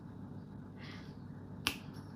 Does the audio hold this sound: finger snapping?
yes